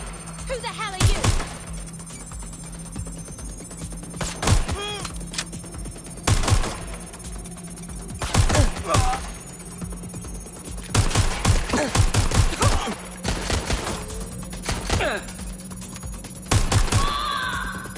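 Sharp gunshots in a video game, fired in irregular bursts and clusters of cracks over a steady electronic hum.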